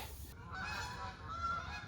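A flock of geese honks overhead in the woods, a faint cluster of distant calls drifting across quiet surroundings.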